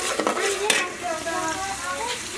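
Chopped vegetables fry with a steady close sizzle in a pan while a utensil stirs them, scraping a couple of times near the start, for a mixed vegetable curry cooked alongside roti and paratha.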